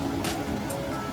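Surf breaks and washes against the rocky shore beneath the steep cliffs of Grigak beach, a steady, close roar of water with brief louder surges.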